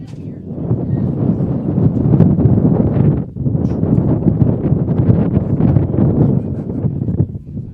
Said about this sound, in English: Wind continuing to howl and gust behind us.